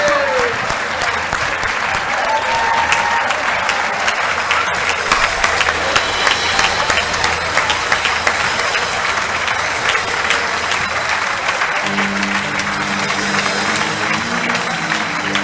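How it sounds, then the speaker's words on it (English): A room full of people at a volunteering awards celebration applauds volunteers, a dense, steady wash of clapping lasting many seconds, loud and continuous, with a voice briefly heard near the end. "let's everyone give everyone a huge round of applause"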